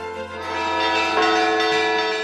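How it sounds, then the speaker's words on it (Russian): Church bell pealing an alarm from the bell tower of a monastery, sustained ringing tones layered and swelling, loud and continuous with no voices. "В это время с колокольни раздался набат."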